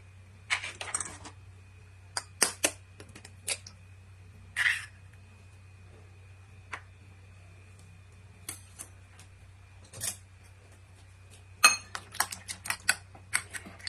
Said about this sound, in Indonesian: Setelah itu kita pecahkan 2 butir telur.